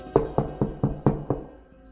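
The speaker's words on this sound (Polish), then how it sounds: "rozległo się pukanie do drzwi" Six sharp knocks on a wooden door in an evenly spaced run, close and distinct, in a quiet room with no other sound.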